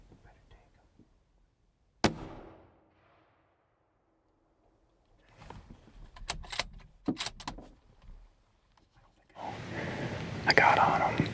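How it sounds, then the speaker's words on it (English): A single sharp rifle shot at a whitetail deer in Ontario, loud and sudden after near silence, followed by a faint tail, then scattered rustling and clicking noises and a burst of louder wind or handling noise. "squeezed the trigger, it felt like a good shot"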